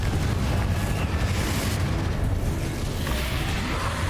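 The Confringo explosive fire spell in Hogwarts Legacy, a dense, sustained rumbling blast of fiery noise that holds steady and loud throughout without pause.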